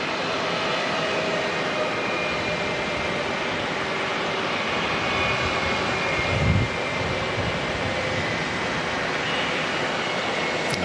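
An aircraft taxis at Auckland Airport, its engines producing a continuous broadband roar and whine that stays steady throughout, with a brief low thump partway through.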